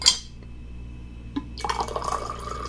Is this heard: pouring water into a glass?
yes